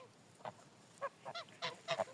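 Domestic grey geese, a gander and his four females, honk in a series of short nasal calls, single and doubled, spaced irregularly and growing busier toward the end, moderately near over a quiet background.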